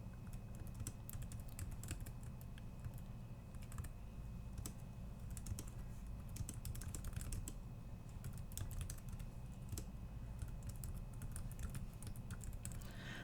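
Rapid tapping on a computer keyboard, continuous quick clicks at close range with no voices, over a low steady background hum.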